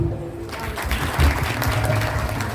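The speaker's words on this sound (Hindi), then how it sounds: "ताली।" An audience claps together after a recited devotional verse, a dense burst of applause that starts suddenly and holds steady for a couple of seconds.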